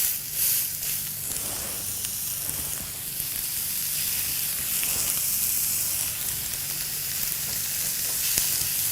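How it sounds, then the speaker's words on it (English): Lamb burgers fry in a hot frying pan with a steady, loud, close sizzle and hiss throughout, broken by occasional faint stirring or shifting sounds and no talking. "to start cooking the burgers, make sure you've got a nice hot pan"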